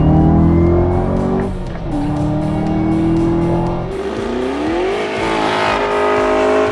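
A 2024 Chevrolet Camaro ZL1 Coupe Collector's Edition engine roars loudly, its pitch dipping and then climbing as it revs and accelerates, with a steady rumbling throb throughout.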